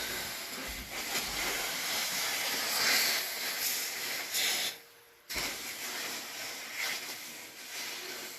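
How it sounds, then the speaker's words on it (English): Food sizzles while cooking in a loud, continuous hiss. The hiss drops out abruptly for a moment near the end, then resumes at full strength. "Hear the sizzle."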